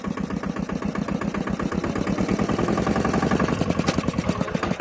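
A New Holland tractor engine runs steadily nearby, giving a rapid, even diesel chugging that holds a constant pace throughout at moderate loudness.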